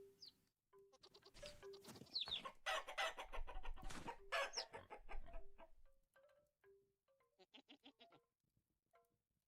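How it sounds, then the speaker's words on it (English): A cockerel in the video game Vintage Story clucks and crows: loud, close squawking calls give way to a series of shorter, quieter clucks that taper off. "We've got a cockerel here,"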